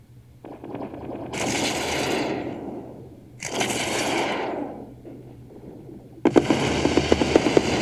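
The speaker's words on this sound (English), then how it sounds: "Pretty heavy looking missile volleys." Missile volleys launching in the space strategy game Endless Space 2: two long rushing, hissing bursts in succession, then a denser barrage with sharp rapid crackling pops, loud and alone without talk.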